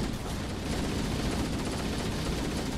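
Dense gunfire from Halo: Master Chief Collection on Legendary difficulty, a continuous rattle of rapid shots and blasts packed together at high, steady loudness with no pauses.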